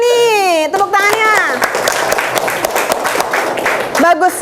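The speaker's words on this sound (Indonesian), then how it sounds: "Tepuk tangannya mana di kelompok 2 nih?" A group of students in a classroom claps in scattered bursts, with brief voices at the start and end around the clapping.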